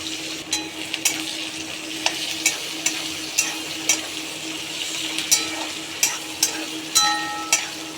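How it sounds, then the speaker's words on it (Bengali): Onions frying in oil with whole garam masala sizzle steadily in a pan while a spoon scrapes and stirs at a regular rhythm, each stroke a sharp metallic tap over the constant hiss, with no talking. "আর পেঁয়াজটাকে একটু ভেজে নেবো"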